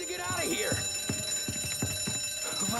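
An alarm going off in the crime video game Mafia, a rapid repeating ring pulsing steadily under game music and voices throughout.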